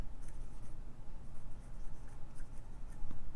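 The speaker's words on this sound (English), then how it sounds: "Ooh, I like how this writes." Jinhao 20 fountain pen with a fine nib writing on paper, a quiet scratchy rhythmic rasp of strokes, close and soft, with no talking.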